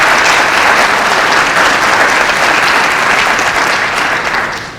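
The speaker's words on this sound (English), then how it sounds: "let's give our coaches a round of applause." Audience applause for the coaches at a 2022 high school athletics signing day program at Lakeland, loud and sustained from a large crowd, tapering slightly at the end.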